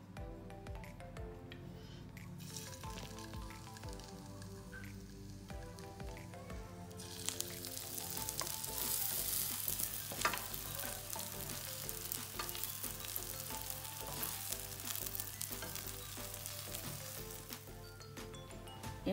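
Bread and egg tikkis frying in about three spoons of oil, a soft sizzle that swells and stays steady over many seconds, with faint background tones and no talking.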